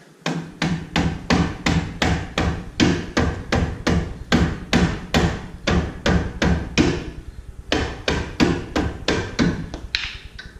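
A hammer pounds a brake caliper off the disc brake of a 2000 Chevy Silverado: about two dozen close, loud, evenly spaced metallic blows, with one brief pause before the rapid striking resumes.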